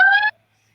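A single short electronic beep from an emergency monitor alert, clear and tonal, lasting about a third of a second before silence.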